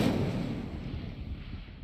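An Incendio fire spell cast in a wizarding video game: a fiery whooshing burst that starts strong and fades into a dull roar over a couple of seconds.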